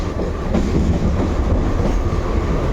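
A passenger train on the Vizag to Mumbai route runs on rails near Wadala, a loud continuous rumble with rhythmic clickety-clack from the wheels, heard from on board and without talking.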